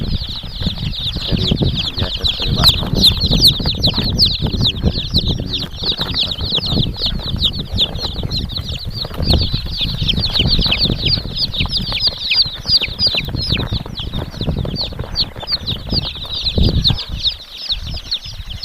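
A dense crowd of one-day-old Kadaknath and desi chicken chicks peeps nonstop, a high shrill chorus of overlapping cheeps filling the whole stretch close up, with shuffling and low rumbling movement underneath.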